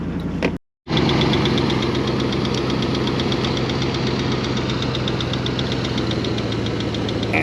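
A HammerHead 250cc go-kart engine runs with a steady, rapid ticking rhythm over a low hum, close and even after a brief cut near the start.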